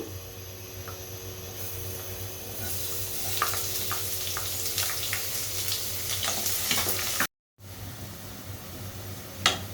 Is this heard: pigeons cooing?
no